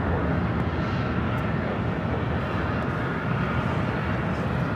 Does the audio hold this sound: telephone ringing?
no